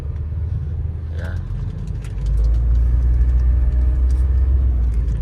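Peugeot 807 car engine running on a test drive after repairs, a low steady rumble that deepens and grows louder partway through, with someone talking over it.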